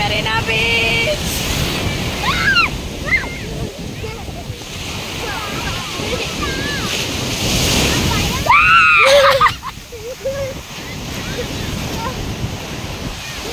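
Sea waves at Marina Beach in Chennai wash in a steady roar with wind buffeting the microphone, while voices and a few high whistles or calls sound around throughout.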